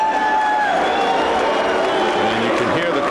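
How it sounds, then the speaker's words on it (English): Crowd noise at a boxing match between Glenwood Brown and Edwin Curet, a steady roar of voices and cheering in the final seconds of the fight, loud and continuous, with no clear speech over it. "And you can hear the crowd reaction."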